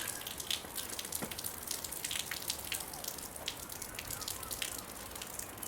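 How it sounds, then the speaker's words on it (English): Water dripping and splashing from a badly leaking gutter on a cold, rainy day, a steady patter of close drips over a constant wash of rain. "very leaky gutter"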